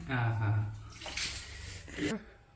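Hot water splashing as a sore foot is washed, a few short close splashes and sloshes in a basin, fairly quiet.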